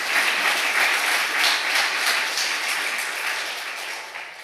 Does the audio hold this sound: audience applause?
yes